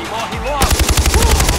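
Rapid automatic gunfire in Far Cry 4 during a prison escape, a loud burst of closely spaced shots following a brief lead-in of other game sounds.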